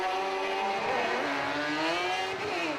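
A rallycross car powered by a 954cc motorbike engine races at Mondello in the British Rallycross RX150 class, its high-pitched engine wailing steadily and shifting pitch for under three seconds, loud and close with no talk.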